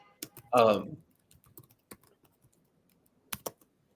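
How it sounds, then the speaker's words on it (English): Sparse clicks of computer keyboard typing, a few isolated keystrokes with a brief voiced sound near the start, fairly quiet and close. "we hear Zach's keyboard going strong to work"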